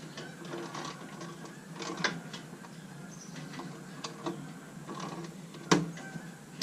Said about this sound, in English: The ratchet's a little bit screwy.